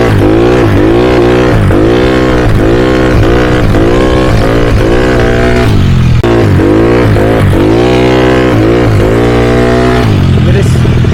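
A Yamaha Mio 160cc motorcycle engine revs hard during a wheelie, its pitch climbing and falling in repeated loud, close surges with a brief dip near the middle.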